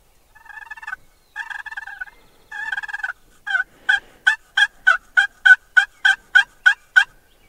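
A wild turkey gobbles repeatedly, first in three long rattling bursts, then a quick series of sharp, evenly spaced gobble notes, clear and fairly close with no talking.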